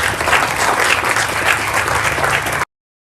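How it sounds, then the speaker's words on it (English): A crowd at a 6th/7th grade end-of-year school ceremony applauds its athletes: loud, dense, steady clapping that stops abruptly after a few seconds. "Let's have a round of applause for our red team."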